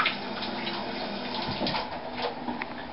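Steady rush of water pouring into a container, a continuous splashing flow heard up close without any talking.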